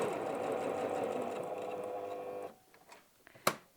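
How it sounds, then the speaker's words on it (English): A sewing machine top-stitches bulky layers of denim for a wallet, a steady fast whirring run for about two and a half seconds that then stops, followed by a few faint handling clicks and one sharp tap. "And then continue stitching."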